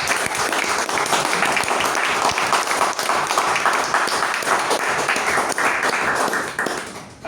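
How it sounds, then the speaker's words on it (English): A Toastmasters club meeting audience gives a big round of applause to welcome a speaker, dense and steady clapping that holds for several seconds before tapering off at the end. "Let's welcome him with a big round of applause."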